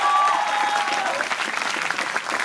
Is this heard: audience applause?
yes